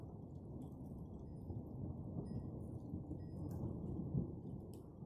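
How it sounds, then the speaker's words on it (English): Thunder rumbles through a storm in Chicago, a low, continuous, distant roll that swells slightly at times, with faint rain-like patter and no talking. "We are having a storm in Chicago."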